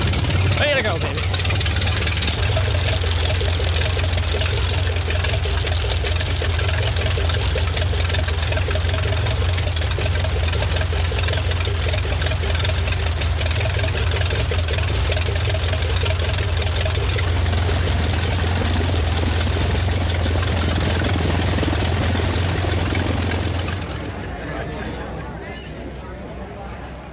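A propeller aircraft engine runs steadily after starting, a loud continuous drone with strong low throb that holds for about 24 seconds before dropping off.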